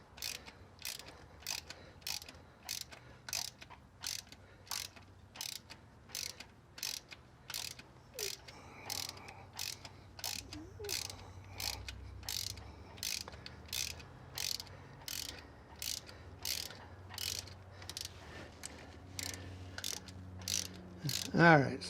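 Rapid, evenly spaced ratchet clicks from a wrench backing out a long-thread spark plug on a Nissan Pathfinder, a long run of crisp pulses with brief pauses, fairly close and moderately quiet.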